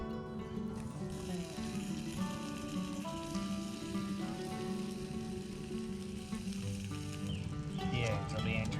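Bacon sizzling in a pan at a campsite, a steady crackling fry running throughout with music-like tones layered over it.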